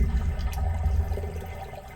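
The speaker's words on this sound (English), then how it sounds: "Toilet flush." A toilet flushing during a drain-cleaning job, a steady rush of swirling water that stays loud and close for the full two seconds, with no voices.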